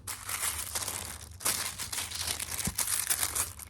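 Wrapping paper crinkles and crumples steadily while a second Longchamp gift box is unwrapped, a close, continuous rustle with a brief pause and a sharper tear near the end.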